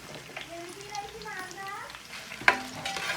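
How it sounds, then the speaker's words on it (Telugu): Onions fry in a pan for a village-style prawn pulao, giving a soft steady sizzle and stirring with a sharp clank near the end, while people talk over it. "ఉల్లిపాయలు బ్రౌన్ కలర్ వచ్చే వరకు ఫ్రై చేసుకోవాలి."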